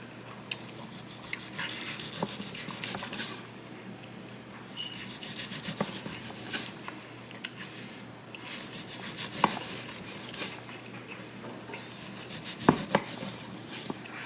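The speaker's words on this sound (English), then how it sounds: "I'm gonna get some more slices off." A knife saws through grilled tri tip on a board in repeated back-and-forth strokes, soft scraping rasps with a few sharper knocks, close but quiet, no speech.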